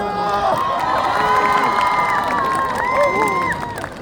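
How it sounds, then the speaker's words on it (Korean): A street crowd cheers, shouts and claps for a juggling show in Ingye-dong, with children's excited voices and whoops carrying steadily over the whole stretch and loud, dense reactions close by. "박수야 가자!"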